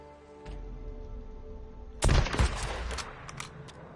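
Gunfire from the Talon 7 weapon in the game Days Gone, a loud burst of shots after a quieter stretch of ambient game sound, with a few fainter reports trailing off.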